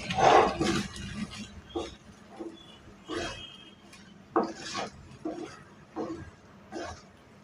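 A spoon stirs semiya kesari, sweet vermicelli with cardamom powder, in a pan, giving soft scrapes and light clinks in a loose, irregular rhythm, moderately close and fairly quiet, with no talking.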